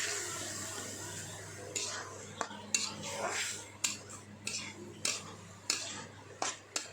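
Spoon scraping and clinking against a pan while milk is stirred into a coconut mixture for coconut dry fruit modak, a series of close, sharp metallic taps and scrapes in a quiet kitchen.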